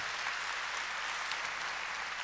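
An audience at an evening missionary conference applauds to welcome a missionary, a steady, dense wash of many hands clapping throughout, fairly loud with no voices on top.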